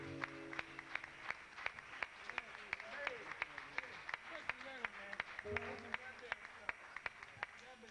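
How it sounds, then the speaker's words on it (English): An audience at a live band show applauds, a crisp rattle of clapping hands running throughout, steady and moderately distant, while a voice speaks over it. "Would you give them a nice round of applause"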